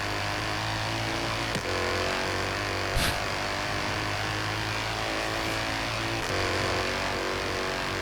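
An Alfa Romeo 8C engine in Forza Horizon 3 holds a steady, loud drone with a few brief shift-like dips and surges while the car drives fast.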